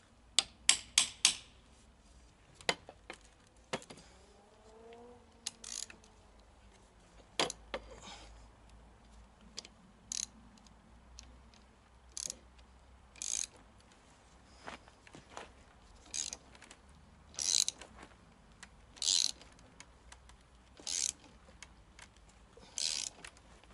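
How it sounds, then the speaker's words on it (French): Metal puller working a brake drum off a Citroën Traction 11 in a workshop: a long series of sharp, separate metallic knocks and clicks at irregular intervals, close and fairly loud, with faint creaks between and no talk. "Placer l'extracteur correctement, c'est ce qui fait tout."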